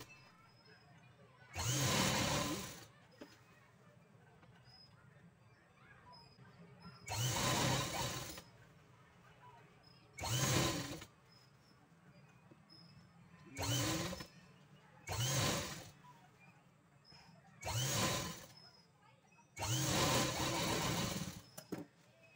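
A sewing machine stitches saree fabric while sewing on a sleeve for a frock, running in about eight quick bursts of whirring stitching separated by pauses, fairly close and moderately loud, with no speech.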